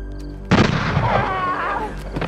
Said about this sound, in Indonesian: Gua kan nembak cicak ke atas.